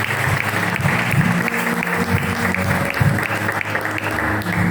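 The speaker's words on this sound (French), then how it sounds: "On peut acclamer Jésus." A church congregation claps together in sustained, dense applause acclaiming Jesus during a baby's presentation, steady and loud throughout with a few voices mixed faintly into the crowd.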